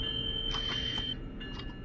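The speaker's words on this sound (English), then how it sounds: "so now you know what the overspeed buzzer sounds like" Steady electronic buzzer tone sounding in the cab of an Amtrak train in a third-rail subway section of Train Sim World 2020, overspeed warning continuing for about a second amid low cab rumble before cutting off.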